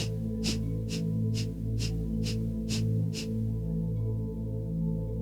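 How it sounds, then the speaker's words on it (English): Seven quick, sharp forceful nasal exhales of yoga breath of fire in a steady rhythm over a sustained droning musical background, then the exhales stop while the drone continues. "inhaling through the nose and exhaling quite forcefully through the nose"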